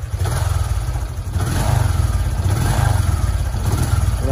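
A fuel-injected Honda XRM 125 FI motorcycle engine runs close by with a steady low rumble, its revs rising unevenly and lagging as it sputters, loud and continuous with no talk.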